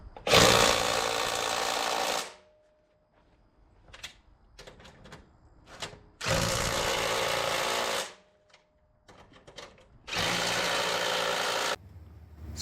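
Bolts being tightened while assembling a LumberPro HD36V2 portable sawmill: three loud bursts of power-tool whirring, each about two seconds, separated by quieter clicks and clanks of hand work.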